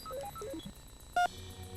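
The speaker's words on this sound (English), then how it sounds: "Ring Frankie for me, please, Cal. Ringing." In-game phone call from a video game: a quick run of descending dialing tones followed by a short, steady beep, fairly quiet over a faint low background hum, with no talking.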